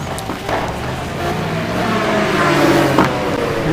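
Onboard race car engine from a GT1 racing game at Interlagos, a steady loud drone with rising pitch as it nears the start-finish line, a brief gearshift dip near the end.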